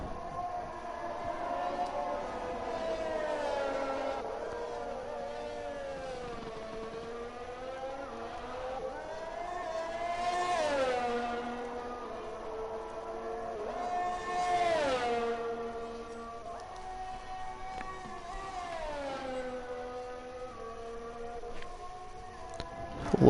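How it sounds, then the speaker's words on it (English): A McLaren Formula 1 car in the F1 2021 game laps Zandvoort, its high-pitched engine wailing as it climbs through the revs, then dropping sharply at each gearshift and braking point in repeated rising and falling sweeps. "Now cross the finish line to start his last lap of the Grand Prix. In the McLaren there."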